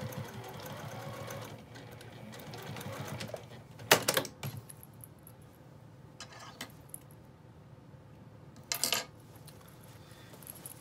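A sewing machine runs in steady mechanical bursts while stitching a fabric pouch with a face mask panel and zipper, joined by a couple of brief sharp clinks of metal.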